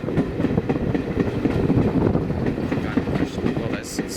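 A train on the Spa Valley heritage railway rolls along with a steady rumbling clatter of wheels on track, heard from on board, with faint voices under the noise.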